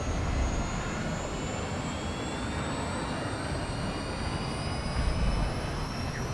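A Tomahawk missile in a video game flies past with a steady, dense roaring whoosh, loud and continuous with faint high tonal whines sweeping through it, and no talking.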